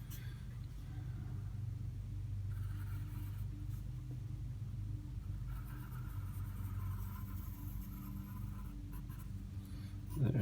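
Pen or marker scratching steadily while a math problem is sketched out, with a continuous low rumble running underneath and no speech.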